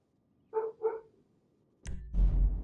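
Two quick dog barks in the GTA Online video game, close and fairly loud, followed by a sudden burst of dense, heavy game noise that fills the rest of the moment.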